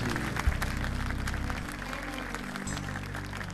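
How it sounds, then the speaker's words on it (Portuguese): A church congregation applauds during a Catholic priest's sermon, a steady wash of clapping over a low room hum that continues for several seconds. "Pode aplaudir Jesus, que é fonte de toda santidade."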